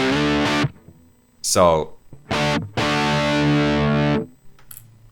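Guitar played through an Amplitube amp model with no cabinet simulation, giving a harsh, fizzy distorted tone in several separate chord bursts and stops, with a brief spoken word at the start.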